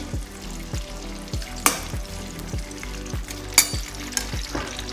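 Ingredients for old-style sweet rice roast in a hot pan with a steady sizzle and repeated scraping stirs, two sharper clanks standing out, close and moderately loud with no talking.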